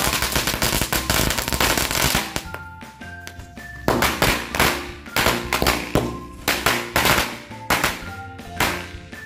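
A Mercon color smoke firecracker going off nearby, a loud crackling run of sharp bangs followed by a steady train of separate pops about every half second, close and with no voices.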